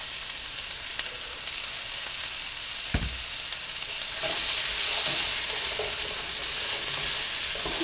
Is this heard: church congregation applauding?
no